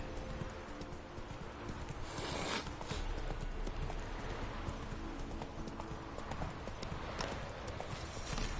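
A horse's hooves clip-clop in a quick galloping rhythm in The Witcher video game, continuous and moderately close, with faint background sound and no clear talk.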